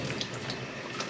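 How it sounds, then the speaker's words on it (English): Tap water runs steadily onto a small toy water wheel during a simple-machines experiment, a continuous close hiss and splash at moderate level with faint flickers of spatter throughout. "So I'm gonna turn on the water, and let's see what happens to our water wheel."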